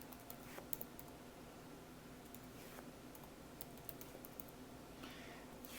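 Fingers tap out a server IP address on a computer keyboard, the keystrokes coming as faint, quick clicks in short bursts over a quiet room hum.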